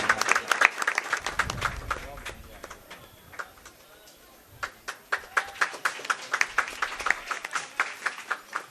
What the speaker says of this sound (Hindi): आप लोग जोरदार तालियां बजाइएगा।